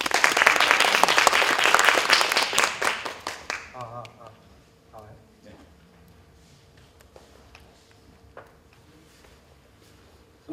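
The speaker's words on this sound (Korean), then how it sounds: "우리 다시 한번 큰 박수로 맞이하도록 하겠습니다." A conference audience applauds to welcome a speaker at a keynote and cooking show, loud dense clapping for about three seconds that tapers off, followed by quiet room sound and some distant voices.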